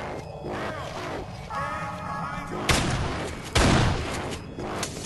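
Gunfire from the video game Kane and Lynch: Dead Men, a burst of several loud shots with two heavy booming impacts partway through, over continuous game ambience, with voices talking under the shooting.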